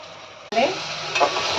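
Sliced onions dropped into hot oil with chana dal and coconut burst into a sudden loud sizzle that keeps going close by, with a stirring swell near the end and no voices.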